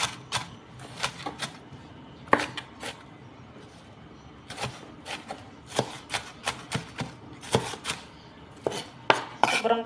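A knife chops a strong white onion on a board in quick, uneven bursts of sharp close taps, clusters of rapid strikes separated by short pauses.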